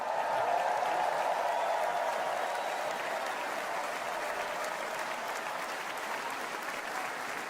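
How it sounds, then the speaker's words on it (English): A large convention crowd applauding, dense continuous clapping that holds steady and loud throughout, heard at a distance as one wash of sound. "Look at these crowds."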